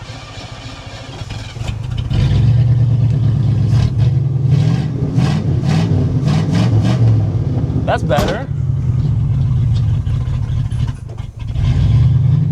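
A deep muscle car engine rumbles steadily up close with rising revs and a rough idle, stalling if the throttle is released all at once, while someone speaks briefly over the noise.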